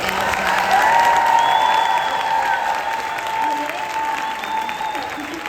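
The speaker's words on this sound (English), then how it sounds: "let's give a big round of applause for Mr." Sustained applause from a convention audience for a couple being honored, loud and steady across the stretch with faint whistles and cheers mixed in and a murmur of voices underneath.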